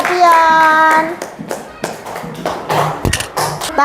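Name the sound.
classroom students clapping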